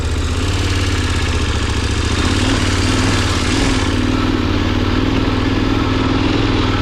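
A KTM 1090 adventure motorcycle in off-road mode climbing a steep side slope, its engine roaring loud and steady close by as the rear wheel spins.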